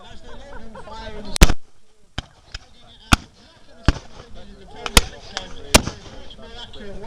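Musket volleys at an American Civil War re-enactment outdoors, sharp loud cracks fired one at a time at irregular intervals, some near and some more distant, with someone talking between the shots.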